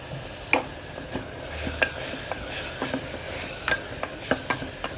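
Curry leaves and garlic frying in butter in a pan, an even sizzle punctuated by frequent light spatula taps and scrapes, close and fairly loud with no voices.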